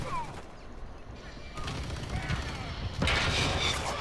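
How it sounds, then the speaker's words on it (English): Precision airstrike in a video game: loud booms and crashing blasts mixed with bursts of gunfire, swelling into a heavier, louder barrage toward the end while a voice speaks briefly over it. "Precision airstrike."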